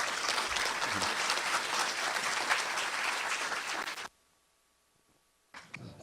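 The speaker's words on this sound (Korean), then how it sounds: "여러분들 힘찬 박수로 맞이해 주시면 감사하겠습니다." An audience in a lecture hall gives a loud, sustained round of applause to welcome a speaker, then it cuts to near silence before a brief return of noise.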